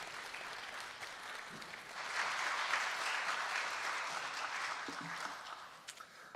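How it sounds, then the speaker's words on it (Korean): A church congregation gives warm applause during a Sunday service as two pastors are introduced. The clapping swells to a full, steady round, then thins out into a few scattered claps. "큰 박수와 격려의 박수를 보내드리도록 하겠습니다."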